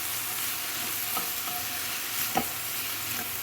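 Small-cut potatoes cooking in a spiced oil tempering, giving a steady close sizzle with a few sharp clicks of a spoon stirring the pan, no voices.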